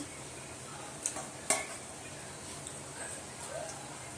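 A pot of fish curry with fish heads simmers with a soft, steady sizzle while a spoon stirs, giving a couple of sharp metallic clinks against the pot and faint scraping.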